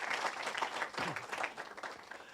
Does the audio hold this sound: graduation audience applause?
yes